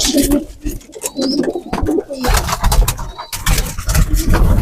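Pigeons cooing inside a pigeon loft, a steady chorus of soft throaty coos close by, with wing flaps and rustling among the birds and no talk.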